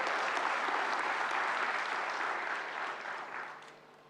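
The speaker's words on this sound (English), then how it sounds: "I want you all to give him a huge round of applause" Conference hall audience at a national intellectual property event applauds a guest warmly, a thick wash of clapping that holds steady and then gradually tapers off toward the end.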